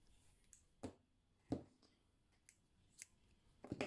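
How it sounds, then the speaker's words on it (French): Scissors snip through yarn after a crocheted slouchy beanie is finished: a few sharp, separate cuts spaced about half a second to a second apart, close and fairly quiet, with no talking. "Je coupe le fil"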